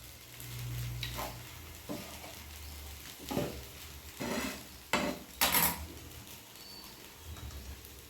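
Cashews and raisins frying in ghee in a pan for chirer pulao, a soft sizzle under repeated clinks and scrapes of a metal spoon stirring against the pan.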